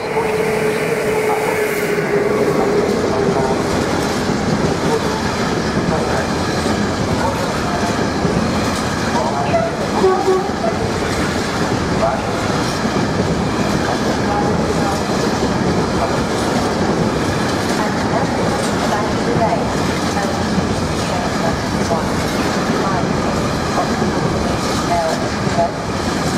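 A Eurocity train rolls through Ostrava-Svinov station in a steady, continuous rumble of wheels and carriages, with rhythmic clickety-clack and some faint wheel squeal. Station noise and a voice are heard in the background.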